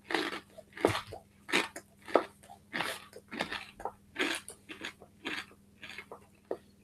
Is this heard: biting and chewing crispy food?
yes